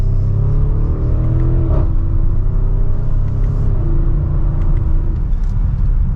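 A 2023 Audi SQ7 Prestige SUV accelerating hard from second gear, heard from inside the cabin as a loud, deep engine rumble that climbs in pitch, with smooth upshifts partway through.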